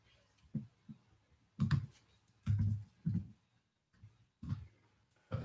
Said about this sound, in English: Typing is a little loud.